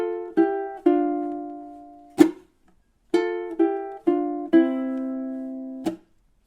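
A soft ukulele melody plays alone in short, plucked phrases, with clear single and double notes ringing out between brief gaps.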